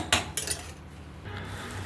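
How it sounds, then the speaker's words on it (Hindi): A metal lid goes onto a pot of potato and pea curry cooking on a gas stove, giving a few quick, close clinks and clatters, then a quiet hiss. "तड़का लग चुका है, बस इसको ढक के रख दूँगी"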